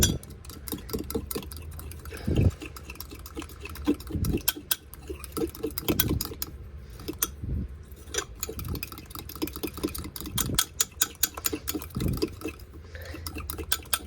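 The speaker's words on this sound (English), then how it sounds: "And then I'm gonna mix this really well." Almond flour, egg and butter being mixed by hand in a mug, a steady run of quick scraping and clinking strokes against the sides, with a few louder knocks along the way.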